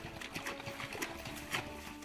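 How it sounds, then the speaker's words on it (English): A mare's hooves clip-clop quietly in an uneven rhythm of soft thuds as she is ridden, over a faint steady hum. "we get to go horse riding"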